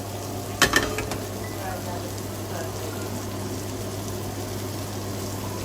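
Fish and tomatoes cook in a pan with garlic butter sauce, giving a steady low sizzle with a brief clatter of a utensil against the pan near the start.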